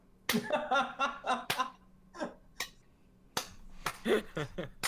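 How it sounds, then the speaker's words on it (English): During a tabletop role-playing game session, a few sharp, isolated hand claps ring out alone at irregular intervals, interspersed with bursts of laughter and chuckling from the players nearby. "I start to clap."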